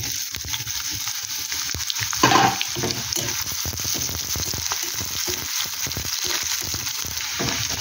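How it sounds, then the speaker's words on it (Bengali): Garlic and onion fry in a pan for a potato dish, a loud continuous sizzle with frequent stirring scrapes throughout and a brief louder burst early on. "রসুনটা একটু নেড়ে নেব, লাল লাল হয়ে গেলে তারপর দেবো পেঁয়াজ"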